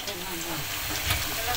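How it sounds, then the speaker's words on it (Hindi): Potato pakoras frying in hot oil, a steady close sizzle and hiss that runs the whole short moment with a voice speaking over it. "दूसरे पकोड़े जो हैं आलू के वो फ्राई होने लगे हैं, तो इसको ऑयल में ऐड करें और जल्दी जल्दी से फ्राई कर लेंगे"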